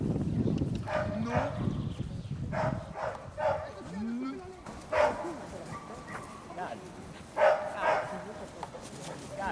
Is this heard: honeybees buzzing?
no